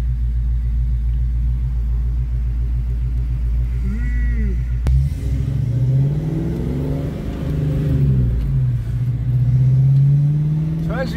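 A 1992 Ford Mustang V8 cruises through Cornwall, Ontario with a deep steady rumble heard from inside, rising and falling in revs as it accelerates, with voices speaking over it.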